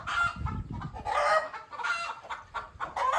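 Several roosters and hens on a farm give repeated close, loud crows and clucks in quick bursts, overlapping one another with no talk.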